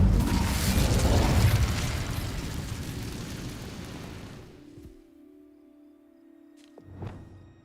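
An Incendio fire spell cast in the Hogwarts Legacy game: a loud, roaring burst of flame that fades gradually over several seconds, followed by a faint hum and a short later flare.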